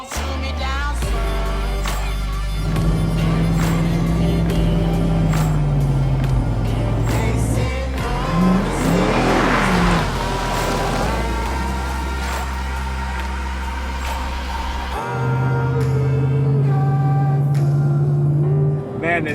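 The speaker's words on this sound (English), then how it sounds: "Just at 3/4 throttle, you can actually hear a faint higher, I guess call it pitch when it comes to the intake charge." Chevrolet Silverado engine with a cold air intake revs steadily, its drone rising and falling over a low rumble, with music playing throughout.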